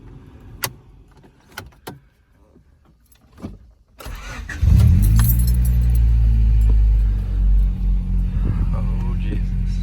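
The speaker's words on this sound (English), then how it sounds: "Let's go ahead and crank her up." A 1995 Honda Civic engine cranks and catches, settling into a loud steady idle close by after a few seconds of quiet clicks and small handling noises.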